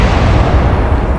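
A secondary explosion tears through a warship in the Atlantic Fleet naval game, a loud, dense low boom that rumbles on without a break.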